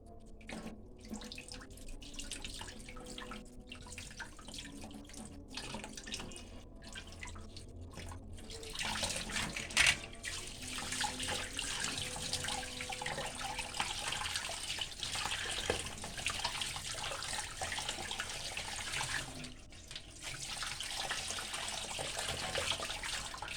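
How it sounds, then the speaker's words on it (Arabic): Tap water runs steadily over crabs being washed in a kitchen sink, a continuous close splashing stream that grows louder and fuller partway through, with brief dips in the flow. "نغسل باقي الكابوريا بتاعتنا"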